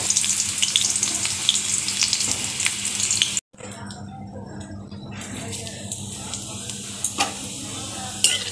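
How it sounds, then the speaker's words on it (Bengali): Potatoes frying in hot oil in a home kitchen, a steady loud sizzle that cuts out briefly partway, then returns softer with crackles and a stirring scrape, light speech faintly underneath. "ওই তেলেতেই আলুগুলো ভেজে নেব।"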